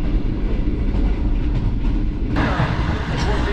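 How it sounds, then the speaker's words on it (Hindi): Green Line Express passenger train in Pakistan running at about 103 km/h, a loud steady rumble and rushing roar heard from inside the carriage, with a brief rise in rattle partway through. "ट्रेन तकरीबन स्पीड मोमेंटम पकड़ चुकी है"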